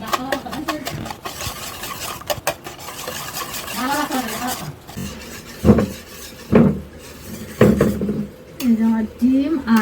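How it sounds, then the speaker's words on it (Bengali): A spoon scrapes and clinks against a metal pot while sugar is stirred until it dissolves for a homemade pudding, the clatter repeating close up with a voice speaking over it. "এই চিনিটা আমি একদম মিক্সড করে দিচ্ছি এখন কিন্তু দানা নাই একদম চিনি গলে গেছে"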